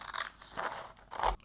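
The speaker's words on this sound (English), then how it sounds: "I'm gonna cut up my laminating sheet to make sure that it fits in between the lines." Scissors cutting a laminating sheet while trimming it to size for homemade die-cut stickers, giving three separate crisp crunching snips close to the microphone.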